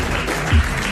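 Brief burst of audience applause in a French TV studio, a short swell of clapping rising out of steady crowd murmur and fading within a second.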